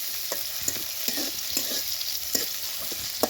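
Onions frying with green chilies in hot oil, a steady sizzle broken by the regular scrape and clack of a spoon stirring the pan, close and fairly loud.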